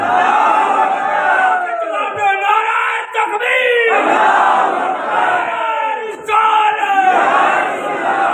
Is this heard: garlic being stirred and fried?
no